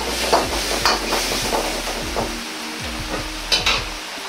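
Fried garlic and quail eggs are stirred in a pan with pork and napa cabbage, giving a steady close sizzle broken by repeated scraping stirs and a few light clinks of utensil on pan.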